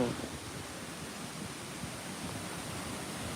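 Kuang Si waterfall in Luang Prabang, a steady broad rush of falling water filling the scene continuously from start to finish.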